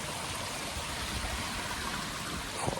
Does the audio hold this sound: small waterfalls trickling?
yes